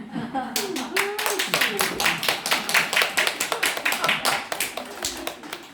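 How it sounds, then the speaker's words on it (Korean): An audience at a Buddhist sermon on Buddha's Birthday claps in a quick, steady rhythm that lasts several seconds, with a voice heard briefly just before the clapping starts. "그런다고 또 박수를 치는 거야"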